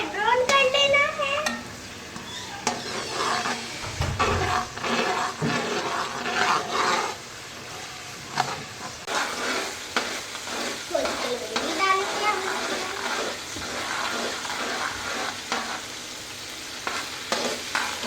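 Ginger garlic paste frying in a karahi at a Pakistani street food stall for chicken karahi, with sizzling, scraping and stirring that rise and fall across the stretch, busy and close.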